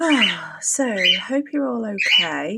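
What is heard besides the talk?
pet birds chirping and squawking in a cage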